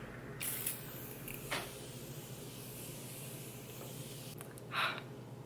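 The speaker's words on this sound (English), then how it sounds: "I'm gonna use this Morphe Special Edition setting spray." Several short spritzes of a fine mist from a Morphe Special Edition makeup setting spray, close and quiet, spaced a second or more apart against a faint background hum.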